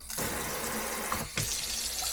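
Hot water runs from a kitchen tap to fill the tank of a Ryobi USB floor cleaner, a steady close splashing stream broken by a brief pause before it resumes.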